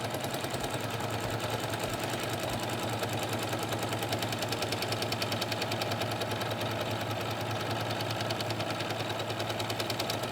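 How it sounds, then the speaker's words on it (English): A Singer Legacy C440 sewing machine stitches a buttonhole on its own, a steady, fast mechanical chatter that continues unbroken for the whole stretch, close up and with no talking. "Now to sew at the buttonhole, I'm just going to step on my foot control, and the machine will start doing the work for me."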